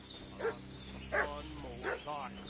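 A dog barks in short, loud yelps in Kingdom Come Deliverance 2, three or four barks spaced across a couple of seconds over a low ambient hum, with a voice speaking alongside.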